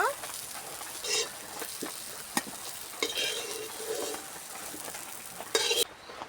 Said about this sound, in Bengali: দেখো, উচ্ছেগুলো আমার ভাজা হয়ে গেছে